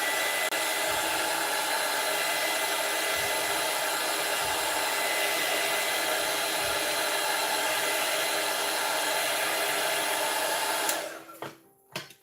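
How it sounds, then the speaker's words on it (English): A hair dryer drying watercolor paint blows with a steady, loud whoosh for about eleven seconds, then switches off, leaving a few faint clicks and handling noises. "every time you hit your watercolors with the dryer"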